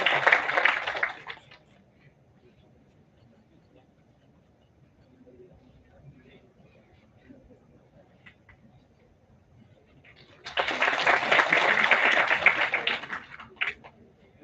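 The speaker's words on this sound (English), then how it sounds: "please welcome Mr. Himang Pathak with big round of applause" Applause from an event audience welcoming a guest speaker, with a loud burst of clapping at the very start, a quiet stretch of room murmur, then a second sustained round of clapping for several seconds near the end.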